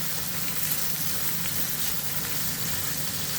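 Onion frying in a pan, giving a continuous, even hiss and crackle, moderately loud and unbroken, with no talking.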